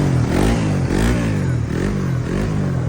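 A second-hand Suzuki GSX-R sport motorcycle idles and revs close by, its engine rising and falling in repeated throttle blips over a steady loud rumble.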